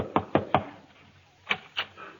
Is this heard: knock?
yes